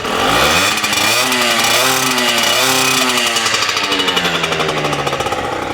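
A brand-new Zündapp ZXM 50cc two-stroke motorcycle engine revs loud and close, its rasping buzz rising and falling through several throttle blips before settling into a steady, slightly uneven idle.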